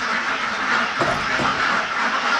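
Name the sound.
domestic ducks quacking on a farm in Uganda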